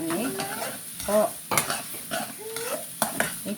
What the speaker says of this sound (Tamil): நல்லா நாங்கள் மிக்ஸ் பண்ணி விடவோணும்.